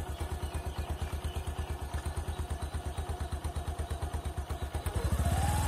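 A Bajaj Discover 125 motorcycle engine runs close by with a steady, rapid putter, then the throttle opens near the end and the revs climb with a louder rising note.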